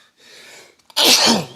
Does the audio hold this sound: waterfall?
no